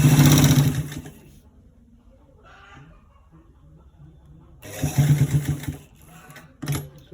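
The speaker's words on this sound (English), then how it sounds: "We are sewing it." Home sewing machine stitching a double V-neckline in short runs, a buzzing motor burst at the start, a quiet pause, then another longer stitching run and a short final spurt.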